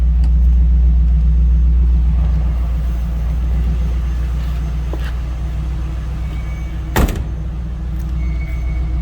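A stock 1999 Pontiac Trans Am WS6 with a 5.7-liter V8 idles with a deep, steady rumble, heard close. A short thump like a door sounds near the end.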